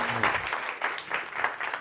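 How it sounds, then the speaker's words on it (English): A crowd at an innovation summit award ceremony applauds, the clapping surging in several quick waves. "Round of applause, please."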